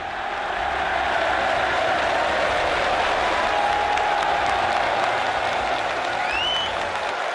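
A large crowd roars and applauds at the World Snooker Championship at the Crucible in Sheffield, a loud, sustained wash of clapping and cheering that swells and holds for several seconds before easing at the end.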